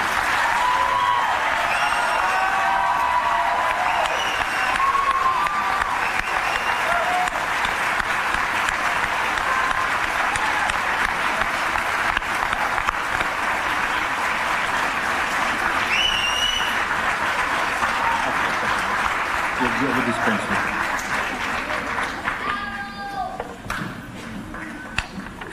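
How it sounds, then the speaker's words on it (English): Sustained applause from a theater audience for graduates at a fall commencement ceremony, broad and continuous throughout, with scattered voices and cheers faintly mixed in and the clapping thinning slightly toward the end. "Let's give them a round of applause."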